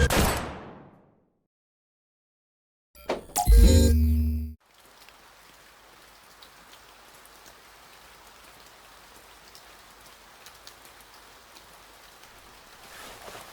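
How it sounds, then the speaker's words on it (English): A short, loud burst of rapid shots rings out after a moment of silence, then gives way to a steady hiss like rain. "So sudden with the gunfire."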